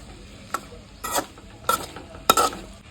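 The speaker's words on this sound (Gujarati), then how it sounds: "આપણે કુકિંગનું ચાલુ કરી દીધું હોય અત્યારે, અને આ ધીમે ધીમે ડુંગળી પોણી છોડતી એવું લાગે" Onions frying in a pan and stirred by hand, with four separate bursts of scraping and sizzling spaced about half a second apart over a quieter sizzle underneath.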